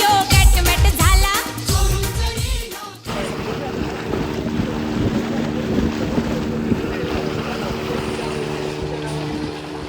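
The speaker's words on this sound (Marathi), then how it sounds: "आता ह्या बोटीत आम्ही जाणार" A motorboat running at sea off Malvan, setting out for a scuba trip, its engine a steady loud drone with wind buffeting the microphone, preceded by a few seconds of music.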